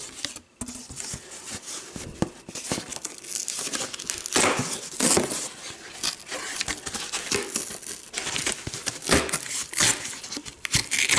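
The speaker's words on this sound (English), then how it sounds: "Now we can take the cardboard and fold it over" Cardboard being folded over and torn into a strip while building a camp kitchen, heard up close as dense crinkling, crackling and ripping noises that come in irregular bursts throughout.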